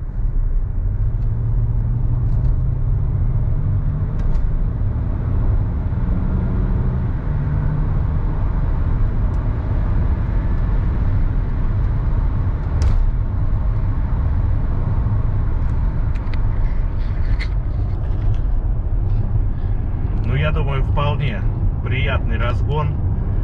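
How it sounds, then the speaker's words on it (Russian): A Land Rover Discovery 4 with a 2.7 diesel and cleaned intake runners accelerates hard up to the rev limiter, a loud steady low engine drone heard from inside the cabin, with road noise building and someone talking toward the end. "Разгон до отсечки, тяга постоянная"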